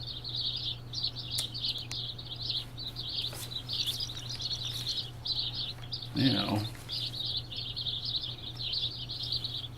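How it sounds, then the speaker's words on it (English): Small birds chirp continuously in the survival game The War Z, a busy stream of high tweets over a low steady hum, with a brief flutter and a single spoken word partway through. "I wonder if they have little bird sounds timed for morning, because that's when you hear most birds like that."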